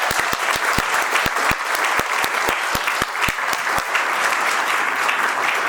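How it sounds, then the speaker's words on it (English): An audience at a working dads employer awards ceremony applauds steadily, a dense, even wash of many hands clapping at once that holds for several seconds, with a few louder nearby claps standing out. "Can we give them a round of applause, please?"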